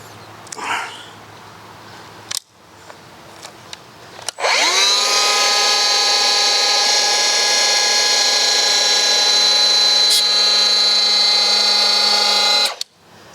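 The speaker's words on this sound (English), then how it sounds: "This is my first time ever using this planer" A Milwaukee electric hand planer spins up sharply and runs at a loud, steady high-pitched whine for about eight seconds before stopping, with a few clicks and handling knocks beforehand and no talk.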